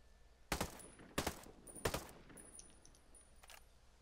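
A 416 Shorty assault rifle fires in Ghost Recon Breakpoint, three sharp, evenly spaced bursts about two-thirds of a second apart, each followed by metallic clinks and a faint ringing tail.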